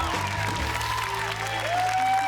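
Steady applause from a studio audience at a TV wellness show, a continuous wash of clapping with a few faint cheers mixed in, moderately loud throughout.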